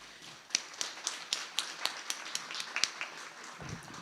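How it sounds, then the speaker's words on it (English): Sparse clapping from a small seminar audience, a dozen or so distinct claps in an uneven rhythm, faint and roomy, fading out after a few seconds. "join me in giving a round of applause to all of our DEP staff that presented today"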